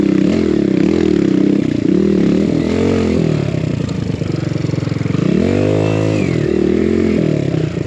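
A built Kawasaki KLX140 dirt bike claws up a loose enduro trail, its engine close and loud, revving up and down in surges with clattering and scraping from the rough ground.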